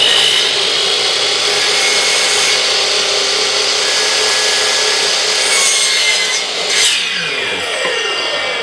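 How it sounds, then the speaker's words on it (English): A miter saw lopping off the mitered ends of a wooden top frame for a desk side table, its motor whining loud and close throughout with a brief dip as the blade finishes the cut and winds down. "use the miter saw, just lop those off like this"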